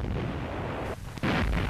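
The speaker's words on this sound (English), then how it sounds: "the battlefield resounded with the thunderous blasts of the cannon" Heavy tank cannon fire in a battle, a continuous thunderous roar with a brief dip and then a renewed booming blast.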